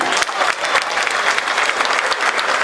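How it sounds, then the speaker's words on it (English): An audience at an appreciation dinner breaks into loud, dense applause, many hands clapping close together in a steady sustained burst. "Give them a round of applause."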